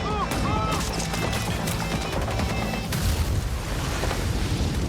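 Grenade blasts from an ENHYPEN concept cinema film rumble loudly and continuously beneath a dense, chaotic mix, with a voice talking over them.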